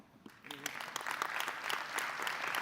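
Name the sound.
audience applause at a meeting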